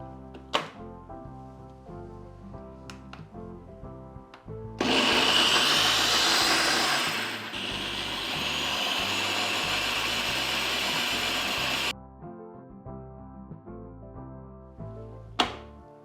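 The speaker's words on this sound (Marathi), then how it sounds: "आता फक्त ब्लेंड करून घेऊया" A kitchen blender whirs loudly for about seven seconds as it purées a strawberry smoothie, its pitch dropping midway, framed by soft background music and a few thumps before and after.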